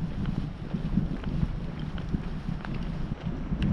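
Strong wind buffeting the microphone on the Puig Tomir mountain top, a continuous low rumbling roar with gusty fluctuations and no voices.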